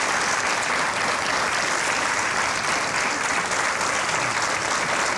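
An audience at a Canarian parranda show breaks into loud, sustained applause, dense clapping that fills the room evenly without pause.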